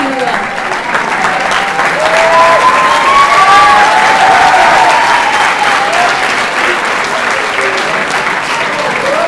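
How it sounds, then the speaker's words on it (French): Sustained audience applause after a speech at a 2017 French eloquence contest, steady and dense clapping from a large crowd for about nine seconds, with faint voices and scattered calls mixed in. "Un beau succès d'applaudimètres."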